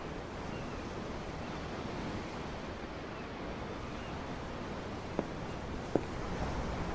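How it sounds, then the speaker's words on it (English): Ocean waves in the video game Tales of Arise, a steady broad wash of surf with wind, continuous and even, with two faint clicks near the end. "I'm looking at the ocean. The ocean? Yeah. The waves."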